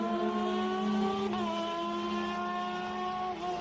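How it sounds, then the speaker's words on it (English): Race cars roaring along the circuit at Road America, a steady loud engine note with layered harmonics and a slight gear change midway, sustained without any talk. "Some great sounds from these cars."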